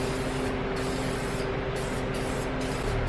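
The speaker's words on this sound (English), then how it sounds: "I'm gonna be spraying this copper shit on the new head gasket" Copper gasket sealant sprayed from an aerosol can onto a new engine head gasket: a loud, continuous close hiss with several short breaks in its top end, no talking.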